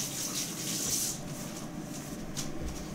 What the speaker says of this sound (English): And wash my hands.